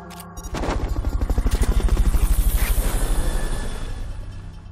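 Military helicopter in a stealth action video game, its rotor chopping in a rapid steady pulse that swells in loud and close, then holds and slowly eases, with no voices.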